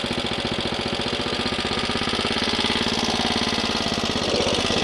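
A cricket club's scarifier engine runs with a rising throttle, a steady, close mechanical drone with rapid pulsing that stays loud and even throughout, with no talk over it.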